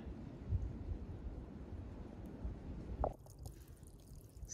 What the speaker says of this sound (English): when you've got a water source like at this little, you know, look at this beautiful kind of mountain source